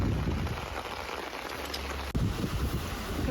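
Steady rain falling during a house-building vlog where masonry work with aerated blocks is under way, a dense continuous patter with a brief dropout partway, no voices over it.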